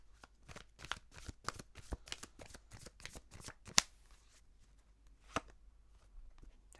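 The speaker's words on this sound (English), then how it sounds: "I'm going to take a couple more cards first." Tarot cards riffled and drawn: a run of crisp, rapid flicks and snaps close by, one sharper slap, then a few scattered card sounds.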